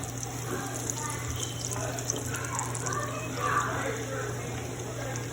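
Plantain slices fry in hot oil with a constant soft, watery hiss and faint crackles over a low steady hum, close by.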